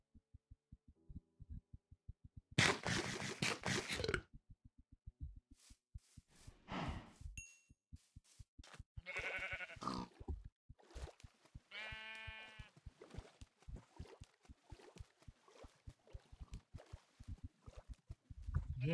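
Sheep bleating in the video game Minecraft, a few short wavering bleats over a steady low thumping rhythm and other game sounds, fairly close and clear.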